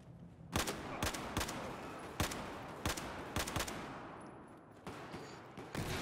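Battlefield 4 campaign gunfire crackles in a rapid string of sharp shots, some in quick bursts and others spaced out, loud against a low battle rumble.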